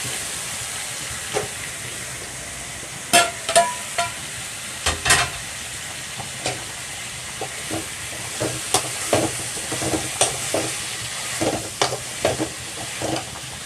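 Cut mushrooms fry in a pan for gravy, a steady low sizzle and hiss running throughout, punctuated by intermittent scraping clinks of a spoon stirring against the pan.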